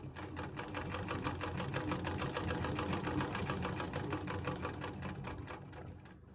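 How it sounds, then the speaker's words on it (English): A White Rotary treadle sewing machine runs backwards on its own, giving a steady, close, rapid mechanical clatter at an even rhythm that fades slightly at the end. "so it revolves backwards like that,"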